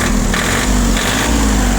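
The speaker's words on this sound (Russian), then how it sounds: "Трактор работает отменно." Small ISEKI TU175 four-wheel-drive tractor with power steering, 967 engine hours, running steadily close by: a loud, constant high-pitched engine drone with a slight pulsing in the mid tones, no speech.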